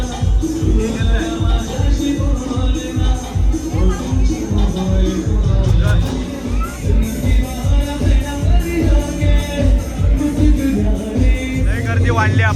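Dense, steady chatter from a packed, busy restaurant on Valentine's Day, with many overlapping voices and dish sounds forming a loud, continuous hubbub close around the listener while a family eats paneer.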